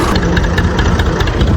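A tractor engine runs close by, steady and loud, with a continuous throbbing rumble and no break across the short stretch.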